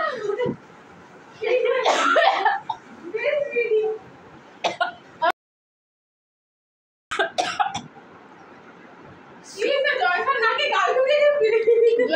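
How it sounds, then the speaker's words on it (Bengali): A woman coughs and clears her throat in short bursts among friends at a potluck party at home, with chatter and laughter around her and a brief silent gap partway through. "আমি এখানে কাশতেছি"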